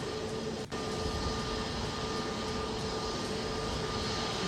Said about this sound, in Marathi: एकाच धावपट्टीवर दोन विमानं उतरलेली आहेत